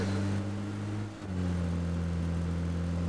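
A car engine hums steadily in a video game, dipping briefly before its pitch settles back into a smooth, continuous drone.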